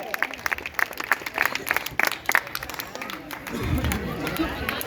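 A congregation at a Christian wedding ceremony claps in time, sharp rhythmic hand claps at first, then a looser burst of clapping and crowd noise, with a voice leading over the top.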